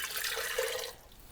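Warm water is poured into a cup for a matcha latte, a short, soft liquid splash and trickle that fades out after about a second, close and quiet.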